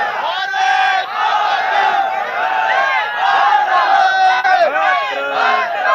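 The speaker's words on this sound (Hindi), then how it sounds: "ये वो भीड़ है जो इस वक्त" A crowd of about 500 people gathered to watch a show on an LCD projector shouts and cries out together, loud and sustained throughout with overlapping voices.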